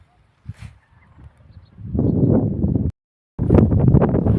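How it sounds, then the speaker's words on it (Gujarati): Strong, gusty wind buffets the microphone over a freshly sown groundnut field, building into loud continuous roaring, cutting out briefly, then returning just as strong. "અને પવન બહુ વાય છે. હવે તો આ વાવાઝોડા જેવું લાગે છે"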